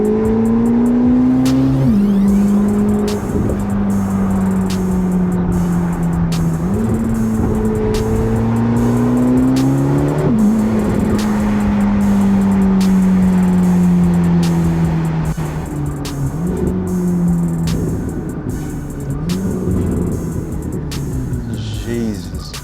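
A 1064 hp Corvette C8 ZR1 cruising through downtown Chicago, its exhaust a loud, close, booming drone that climbs in pitch through several pulls and drops sharply at each gear change, with steady ticking and street noise behind.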